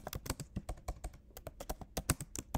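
Quick, irregular keystrokes clatter on a computer keyboard while access-level values are entered, close and fairly quiet, with short pauses between bursts of clicks and no talking.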